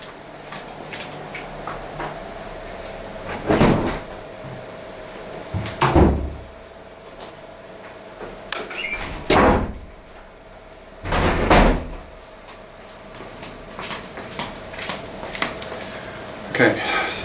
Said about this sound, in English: And close the doors.